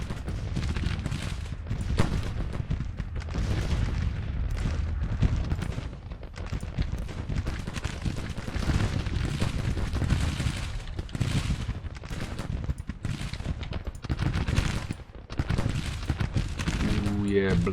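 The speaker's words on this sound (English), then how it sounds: "so we're gonna initiate a bombardment." Artillery bombardment in Grand Tactician: The Civil War rumbles as a continuous barrage of booming cannon fire, with dense overlapping blasts, and someone talks over it.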